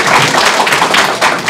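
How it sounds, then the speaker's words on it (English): An audience clapping at a council gathering, a brief, loud, close burst of many hands. "We can clap."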